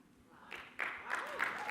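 Sparse clapping plays during a business talk on book sales, a few quiet bursts over a faint background with no speech.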